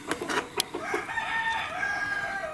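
Roosters crow loudly nearby in a long drawn-out call following a few sharp clucks and knocks, against a steady outdoor background on a rural property.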